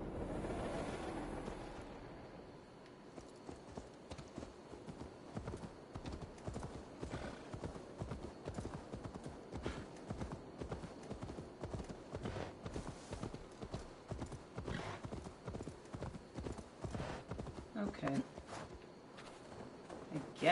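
Rapid, even hoofbeats of a galloping horse in the video game Assassin's Creed Valhalla pound on without pause for a long stretch, fairly close and steady, with a faint tonal hum behind.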